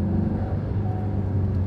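A Ford GT350 with a Corsa Double Helixx X-pipe cruises with its exhaust valves closed, a low, steady engine rumble that stays subdued and even with no revving.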